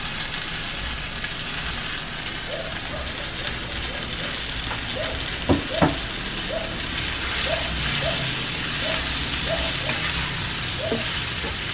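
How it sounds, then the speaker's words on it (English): Carrots and the main ingredients being stir-fried for Filipino-style seafood pancit, giving a steady soft sizzle with a few scraping clinks of the utensil against the pan. "I just want to stir fry the carrots together with the ingredients, main ingredients, and take it out."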